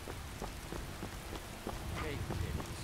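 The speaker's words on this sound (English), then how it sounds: "The rain is really keeping people indoors today." Steady rain falling and pattering on surfaces in a deserted town street in Skyrim, a soft, continuous wash of drops at low volume with no voices.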